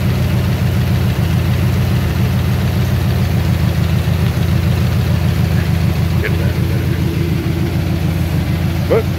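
Car engine idling after new spark plugs and a cleaned idle air control valve, a steady low rumble holding evenly throughout, close and loud, with faint incidental clicks.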